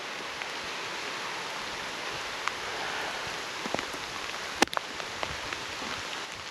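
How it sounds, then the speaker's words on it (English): Heavy rain pours down in a forest during a nasty storm, a dense, even hiss of drops close by with occasional sharper drips and ticks on nearby surfaces. "we survived that rainstorm. It was pretty nasty out there."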